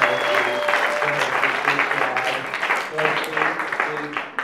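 A hypnotist show audience applauds the students on stage, a dense continuous clapping at moderate loudness with talk and murmuring underneath.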